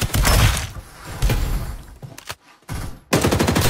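Heavy gunfire in the shooter Farlight 84, loud rapid bursts in several close volleys separated by brief quiet gaps, with sniper shots among the fire.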